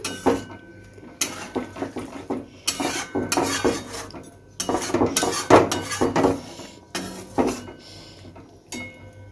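Vegetables with cauliflower, potato and added sugar being stirred in a pan, clattering utensil scrapes and metallic knocks in irregular bursts with brief pauses, close and fairly loud, no talking.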